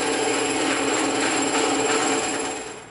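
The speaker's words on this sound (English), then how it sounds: "we're gonna go hit this on the bandsaw real quick" A bandsaw runs steadily through a thick piece of EVA foam, a loud, even whine with a faint high tone that fades out near the end, with no one talking.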